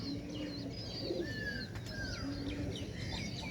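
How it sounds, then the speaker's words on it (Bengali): Pigeons coo softly amid scattered bird chirps, with a couple of sharp wing flaps; a quiet outdoor morning with steady low background noise. "কবুতরগুলো উড়িয়ে দিয়েছি"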